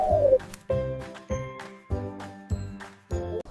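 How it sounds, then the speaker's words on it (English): Pigeon cooing in a steady series of about six low, throaty coos evenly spaced and close by, with faint tinkling in between. "This is a pigeon."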